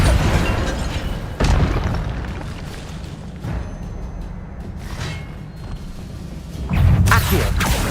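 An Incendio fire spell in the Hogwarts Legacy video game detonates in heavy, booming bursts over a rumbling game soundscape, loud and near, with a few separate blasts across the stretch.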